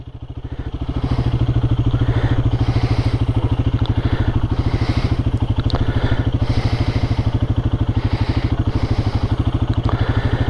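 A Royal Enfield Guerrilla motorcycle engine runs steadily close by, a loud, even, rapid thumping idle with light mechanical clatter that holds for the whole stretch after a short rise at the start.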